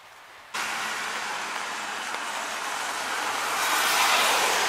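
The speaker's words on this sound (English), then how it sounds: "But steady light rain is going on right now." Steady light rain falls outdoors on a hillside, a constant broadband hiss that starts abruptly and then holds, growing slightly louder toward the end.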